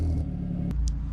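Infiniti G35 exhaust, a deep, steady bassy rumble from close by, with one brief higher hiss partway through.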